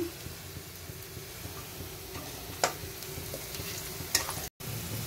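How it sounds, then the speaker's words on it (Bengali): Potatoes and onions fry together in a pan with a soft, steady sizzle, broken by a couple of sharp clicks as they are stirred; quiet and close, with no talking. "আলু পেঁয়াজ একসঙ্গেই আমি ভেজে নিচ্ছি।"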